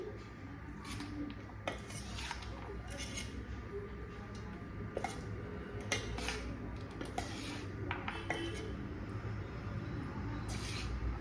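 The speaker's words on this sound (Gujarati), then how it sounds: "તો થોડાક ધાણા મેં અત્યારે ઉમેરી દીધા છે અને આપણે આને સારી રીતે મિક્સ કરી લઈશું" A spoon scraping and clinking in a pan while sabudana khichdi is stirred together with coriander. The scrapes are quiet and irregular, repeating over a steady low background hum.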